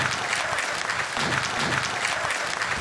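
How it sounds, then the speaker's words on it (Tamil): Audience applause fills the hall at a victory celebration event for a joint pain oil, a steady dense clapping from a large crowd with no pauses. "ஒரு பெரிய கைதட்டல் கொடுத்துடலாம்."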